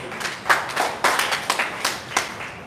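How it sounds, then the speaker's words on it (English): An audience claps at a live wellness event, with a brief burst of several hands clapping in sharp, irregular strokes and scattered taps that fade after a few seconds. "Let's clap for these guys, they are wise."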